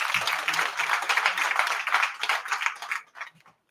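Graduates at a training centre launching and graduation ceremony clapping for themselves, a dense burst of crowd applause that rises and falls, then thins to scattered claps and fades out.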